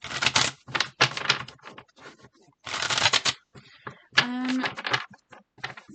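Tarot cards riffled and shuffled in several quick bursts of crisp flapping, close and fairly quiet, with short gaps between bursts and a brief pulled-card snap near the end.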